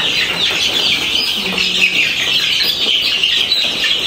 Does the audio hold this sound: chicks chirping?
yes